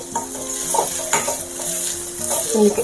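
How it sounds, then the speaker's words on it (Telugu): Tamarind leaves being stirred with salt in a hot pan for a dry prawn dish, with a continuous sizzle and spatula scrapes across a short stretch, no talking. "కొంచెం salt half tea spoon salt వేసి ఒక్కసారి కలిపి"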